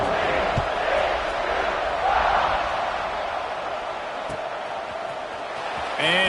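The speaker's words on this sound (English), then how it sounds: "this crowd is buzzing after that last score" A football stadium crowd at a JMU game buzzes after a score, a steady, loud roar of many voices that swells and fades, with a commentator talking over it and a brief whistle near the end.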